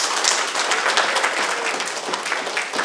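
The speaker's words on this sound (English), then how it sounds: "Let's give them a big round of applause." Applause from a congregation at a Sunday church service, dense and continuous clapping from many hands, loud and sustained throughout.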